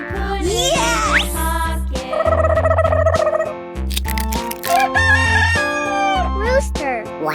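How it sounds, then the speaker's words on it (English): Rooster crowing in a 3D animal slide video game, loud cartoon cock-a-doodle-doo calls mixed with bright game music and jingly effects, repeating over several seconds. "Rooster!"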